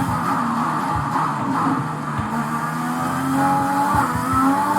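Race car in a driving game braking into a turn and accelerating out, a steady loud engine drone with shifting pitch and brief dips as the brakes go on and off, no voices.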